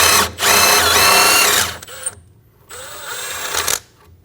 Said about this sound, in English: Using a 14mm triple square and an 18mm wrench, we're going to hold our nut and remove the bolt.